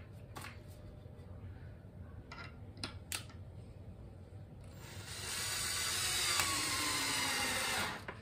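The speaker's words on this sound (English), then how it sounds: "Also drilled pilot holes for my screws" Power drill boring pilot holes in scrap wood for screws, a few faint clicks and short bursts, then a steady high-pitched whine running for about three seconds near the end.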